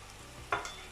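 A thickening sauce being stirred as milk is added, heard as a brief wet scrape and stir close by over a quiet background, with no voices.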